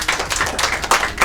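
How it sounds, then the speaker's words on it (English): Brief round of audience applause for a prize winner at a Children's Day event, dense and fairly loud clapping from many hands, with no voices over it. "Clap for her again."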